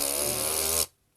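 A long, loud, buzzing cartoon fart sound effect in a read-aloud children's story, lasting under a second before cutting to near silence.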